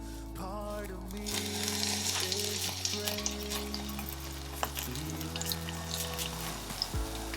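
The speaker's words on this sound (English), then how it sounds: "Guys, I'm still frying though." Fluffy yoghurt pancakes fry in a pan with a steady, close sizzle and faint crackling throughout, set against quiet background music and no talking.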